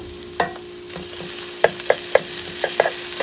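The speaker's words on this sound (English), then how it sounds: "now I'm gonna add some garlic. Let that cook for a minute or two." Garlic sizzles in a very hot pan while it is cooked for a curry with mango, chickpeas and tofu. A steady fry runs under a steady hum, broken by a few sharp spoon clicks from stirring.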